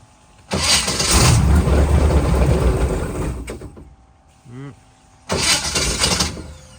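Sleek Craft jet boat engine, long unused, cranking and catching in two loud bursts of rough mechanical roar separated by a lull; someone speaks briefly between them.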